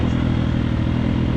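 A Triumph TF250X motocross bike, still being broken in, rides at steady part throttle with a continuous close, loud engine drone and a faint clattering texture.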